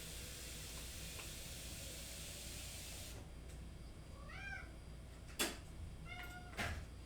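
A cat meows twice, close and clear, with a few seconds between the calls, over a steady background hiss.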